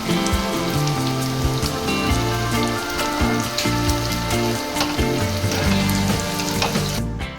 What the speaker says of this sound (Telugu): స్టవ్ని సిమ్లో ఉంచి వేయించాలండి, లేకపోతే గోబీ ఆయిల్లో సరిగ్గా ఉడకదు